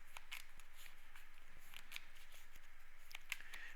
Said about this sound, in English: We're going to go ahead and shuffle that real quick.